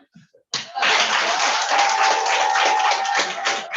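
A crowd at a youth development project launch event bursts into sustained, dense applause that starts abruptly and stays loud and steady, with faint voices mixed in.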